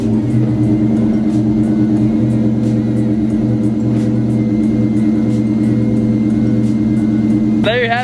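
A freshly rebuilt car engine idles steadily after a cold start, a loud, constant rumble with a faint ticking pulse, following completion of the engine bay rework.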